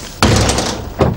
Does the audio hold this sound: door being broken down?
yes